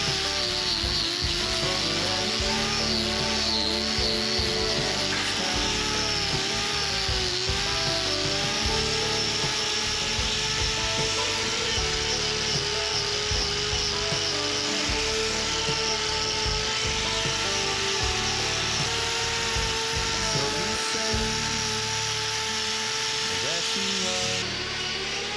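Hoof trimming on the back left foot of a massive Angus bull with a huge hoof crack, where a steady, loud grinding whine from a power trimming tool runs continuously with faint scraping under it.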